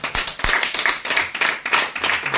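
A church congregation at a French-language worship service claps together in a quick, even rhythm of sharp, close hand claps, with no clear cheering standing out.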